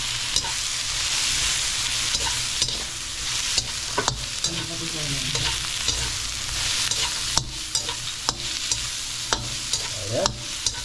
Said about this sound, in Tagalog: Tapos sagay natin yung ating mga hipon